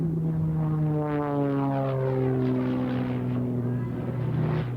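Aircraft flying low past ribbon markers at the 1982 Moffett air show, a loud propeller drone whose pitch drops steadily as it sweeps past nearby, then holds a strong steady hum.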